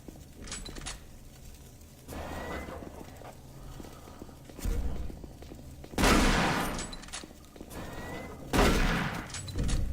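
Bursts of enemy gunfire in the Doom 3 VR video game, several sharp loud volleys spaced a couple of seconds apart over a dim background of footsteps and ambient rumble.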